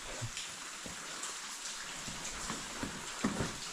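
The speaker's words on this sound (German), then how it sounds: "Guck mal, wie es da tropft" Water drips and patters inside a cave with a rain-like sound, a soft continuous trickle broken by scattered faint drops, heard without any talking.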